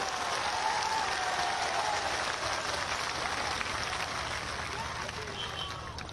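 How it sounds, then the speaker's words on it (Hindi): A large crowd at a political rally applauds Air Force soldiers, with dense, continuous clapping and cheering that fills the whole stretch and carries a faint voice beneath it. "एक बार हाथ उठाकर एयरफोर्स के जवानों के सम्मान में एक बार बहनों भाइयों तालियां बजाकर उनका स्वागत करें"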